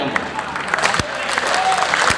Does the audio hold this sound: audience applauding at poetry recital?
yes